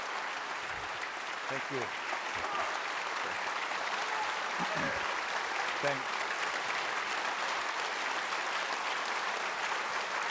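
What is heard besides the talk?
audience applause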